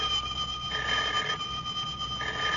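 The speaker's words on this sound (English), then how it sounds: "Well, Swan, a feller can't sit down for 5 minutes without that dad-blame telephone ringing" An old-fashioned telephone rings in bursts, a bright electric bell trilling in short repeated peals against a faint, hissy background with no one talking.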